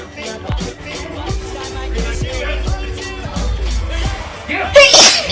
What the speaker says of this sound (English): if you sneeze on me again